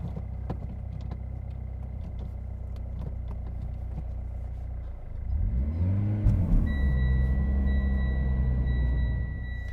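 A 2014 Mitsubishi Evo X GSR flex-fuel car drives along with a steady low engine drone and road rumble, then the engine note rises and swells midway before settling into a louder sustained hum, no speech.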